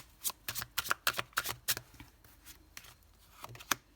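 Tarot cards being shuffled by hand close up, a rapid burst of crisp riffling snaps in the first two seconds, then a few scattered card flicks and taps.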